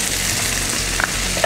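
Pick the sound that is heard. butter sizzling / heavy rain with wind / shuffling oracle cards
butter sizzling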